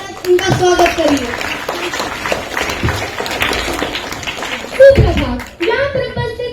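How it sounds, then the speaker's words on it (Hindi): At a school Hindi Day celebration, an audience of students claps unevenly to welcome a young performer, with children's voices mixed in over the clapping. "तो जोरदार तालियों के साथ इनका स्वागत करिए।"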